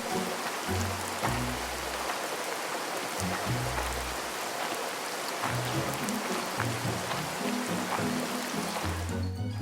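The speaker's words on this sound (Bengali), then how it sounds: "বাহিরে তো বৃষ্টি পড়ছে" Steady rain falls outside in an animated Bengali fairy-tale cartoon, a continuous even patter with low soft thumps of background music underneath and no talk.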